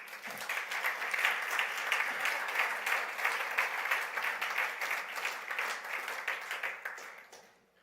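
An audience applauds steadily in a church-like gathering, a dense, sustained wash of many hands clapping that fades out at the end, with no speech over it.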